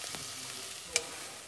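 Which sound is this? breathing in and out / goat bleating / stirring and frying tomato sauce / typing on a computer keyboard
stirring and frying tomato sauce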